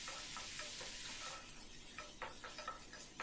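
Tomato pieces and turmeric frying in a pan, a steady close sizzle with scraping stir strokes coming through more often toward the end, heard alone without talk.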